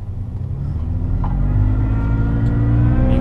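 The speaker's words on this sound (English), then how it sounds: "It's exactly how a twin screw supercharger is supposed to sound. It has a whine to it." A twin screw supercharger on a Toyota FJ Cruiser whines under a rising engine rumble as the vehicle accelerates, a steady climbing tone heard from inside the cabin.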